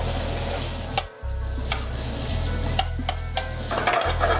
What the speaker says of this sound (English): We're gonna add our chorizo and allow that to cook.